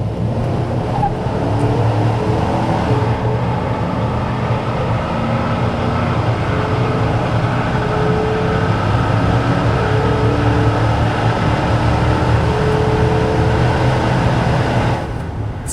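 1998 Chevrolet K1500 Z71 pickup with a 5.0 liter V8 accelerating hard, a loud, continuous engine roar with a gradually rising drone heard from inside the cab, steady for the whole stretch.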